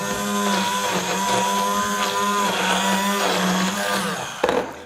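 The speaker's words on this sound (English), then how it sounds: "You can save so much money by using the same amount of food coloring just by using a blender." A blender whirs steadily while mixing food coloring, a loud close motor drone with a steady pitch that holds for several seconds before a brief clatter at the end, with no talking.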